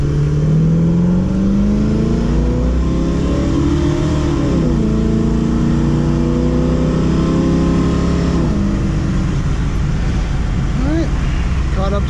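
A 1971 Mustang with a 351 Cleveland V8 and Edelbrock carburetor runs steadily while driving, its engine drone rising and falling through gear changes, loud and close inside the car, continuous with no talk.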